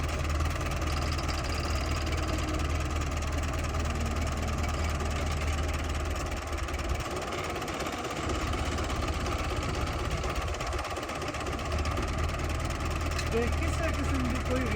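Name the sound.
Belarus 510 tractor engine running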